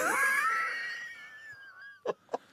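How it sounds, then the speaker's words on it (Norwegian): A close, wheezy nasal breath into a microphone, drawn out for about two seconds with a steady whistling tone, then two short, soft puffs in a quiet room. "Hvem var det som pustet med nesa inn I mikrofonen?"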